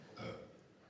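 A single short burp at an improv comedy party game, rising around a quarter second in and trailing off, fairly close with no talk over it.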